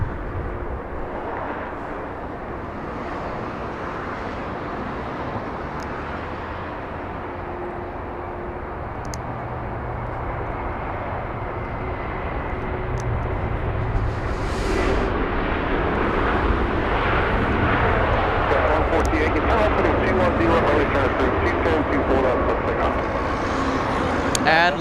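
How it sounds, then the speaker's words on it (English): An Air New Zealand Boeing 777 lands at Los Angeles International Airport, its broad, steady jet roar filling the scene and swelling slightly louder toward the end. Constant outdoor rumble sits beneath, with no voices heard. "777, Air New Zealand. Landing in the south."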